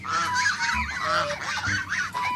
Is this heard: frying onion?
no